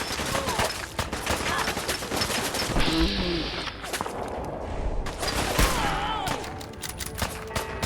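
Rapid, repeated gunfire sharp cracks from a hunting rifle in the video game Fallout 4, with dense overlapping shots and bursts along with other combat effects, loud and close throughout.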